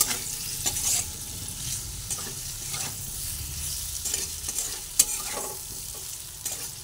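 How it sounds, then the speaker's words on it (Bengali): Cucumber sizzling in a pan with cumin and turmeric powder while being stirred, a steady close frying hiss broken by scraping strokes of a utensil and the occasional sharp clink. "সব দিয়ে এরপর এটা ভেজে নিচ্ছি।"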